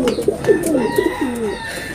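A racing pigeon arrives at its loft and coos close by, a series of soft throaty warbles that rise and fall over about two seconds.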